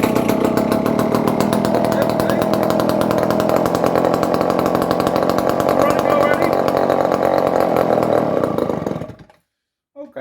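A rare barn-find Dolmar 118 Super chainsaw runs loud and close, its rough, rapid engine buzz holding steady, then abruptly cutting out near the end.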